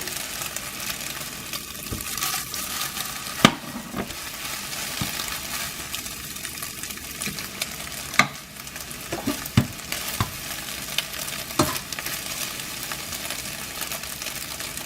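An egg sizzles steadily in a hot pan for shrimp fried rice, with a constant crackling hiss punctuated by occasional sharp pops and utensil scrapes, no talking.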